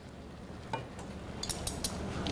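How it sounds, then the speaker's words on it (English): Liquid boiling and reducing in a pan, a soft continuous bubbling sizzle with a few light clinks and stirring taps, close and fairly quiet, no talk. "Get that boiling a little bit."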